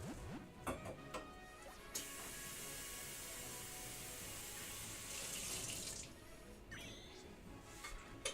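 Cold water gushing from a tap into a sink, a steady close hiss of running water lasting several seconds with a few clinks and knocks around it, then the flow easing off near the end.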